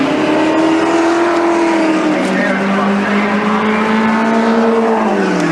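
Holden Torana SL/R 5000 L34 racing cars roar along the circuit, with a loud, sustained engine drone whose pitch shifts as they pass, under race commentary.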